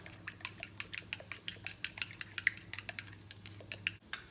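Ground beef for smash burgers being mixed by hand, giving a quick, regular run of soft wet squishing pats close by that ends abruptly.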